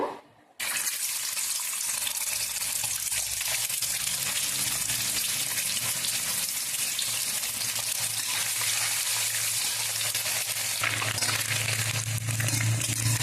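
Egg frying in oil with a little turmeric in a kadai gives a steady, dense sizzle that starts after a brief silent moment and holds evenly, close and fairly loud, with no voices.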